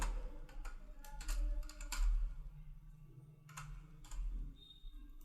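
Typing on a computer keyboard while entering a last name in an online income tax portal registration form: a quick run of light key clicks in short bursts, close and clear over a low background hum.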